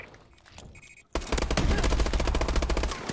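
Automatic gunfire in a multiplayer shooter video game, bursting in suddenly after a quiet moment and continuing as a loud, rapid, close stream of shots.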